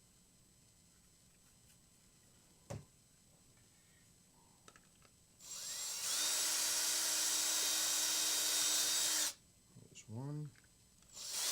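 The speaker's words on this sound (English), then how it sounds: "we got to drill that now." A loud, high-pitched power drill whines steadily for several seconds, drilling holes through a bottom plate for batteries, then stops; a person speaks briefly before and after.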